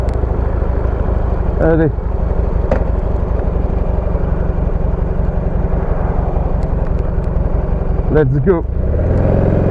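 A Buell motorcycle engine rumbles steadily along a country road in the Hauts-de-France, loud and close, while someone speaks a couple of short words over it.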